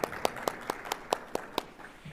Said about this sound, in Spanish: Por favor, fuerte aplauso.